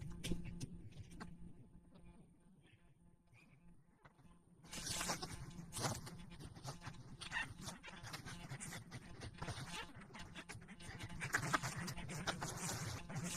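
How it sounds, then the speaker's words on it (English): Large insects buzz outdoors during a dog walk near woods, a faint hum at first, then a denser, louder buzz with rustling from about midway on, with no talking. "Big bugs out here, bro."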